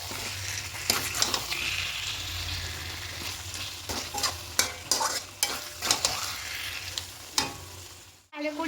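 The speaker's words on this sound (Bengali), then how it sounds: "প্রথমে একটু খুব ভালো করে কষিয়ে নেব।" Chicken pieces being stirred and fried in a pan for Bengali chicken kosha, cooked in their own juices without added water: a steady sizzle broken by repeated scraping strokes of a spatula, close up.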